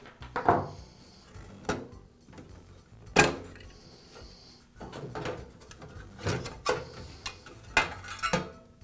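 Small metal parts, a nut and a reflector grill, come off a NuTone vent-fan-heater housing: scattered clicks, clanks and sharp knocks at close range, with quiet gaps between them and no talking.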